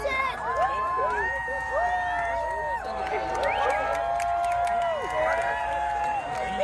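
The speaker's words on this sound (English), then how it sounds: "Everyone's cheering." Group of people cheering outdoors as a solar eclipse reaches totality, with whoops and excited shouts rising and falling over several seconds, voices near and far.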